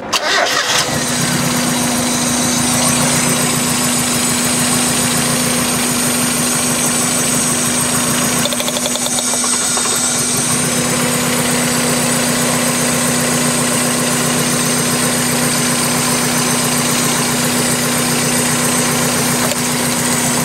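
Mazda Miata engine idling with a cylinder 3 misfire, a loud, close, uneven mechanical running sound that continues steadily after a start, with a brief dip partway through and no talking.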